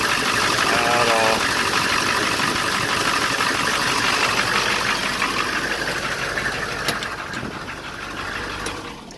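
A 1989 Humvee's 6.5 diesel engine idles with a steady, dense rumble and faint diesel knock, loud and close throughout, easing slightly toward the end.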